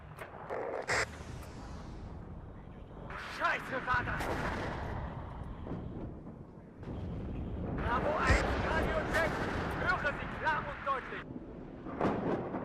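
Artillery fire in the WARNO military strategy video game, with booming shots and rumbling blasts rolling through a busy battle soundscape, while someone talks over it.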